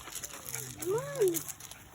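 A Shih Tzu or Chinese spitz dog gives a short, rising and falling whine, with a low voice faintly in the background.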